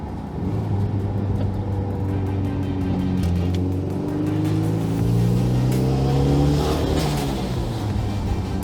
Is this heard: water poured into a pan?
no